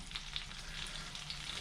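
Padron peppers frying in oil in a pan: a steady, faint sizzle with light crackles popping through it, close by and continuous, with no talking.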